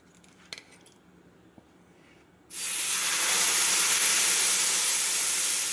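Oil poured onto a hot tava with a ragi onion dosa bursts into a loud, steady sizzle after a few quiet clicks and taps, the hiss holding strong and continuous to the end.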